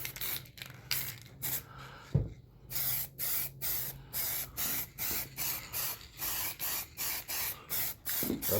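Yellow primer sprayed from an aerosol can onto an old bench vice under restoration, in a rapid series of short, close hissing bursts with brief gaps, about a dozen in a row.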